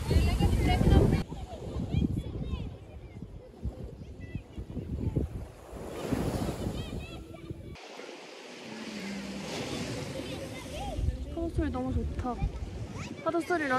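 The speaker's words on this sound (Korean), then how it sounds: "파도 소리랑 애들 노는 소리 너무 좋다" Ocean waves washing over a pebble beach in a small Greek fishing village, steady surf and wind noise with distant children's voices at play, a sudden drop to a quieter stretch about halfway through.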